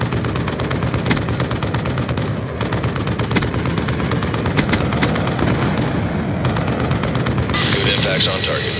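Rapid, continuous VTOL warship gunfire pounds a target in the Black Ops 2 video game. The loud, dense bursts run unbroken under radio voice chatter, with a brief dip partway through.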